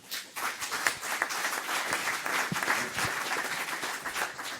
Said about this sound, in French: mais d'abord on l'applaudit aussi, c'est normal.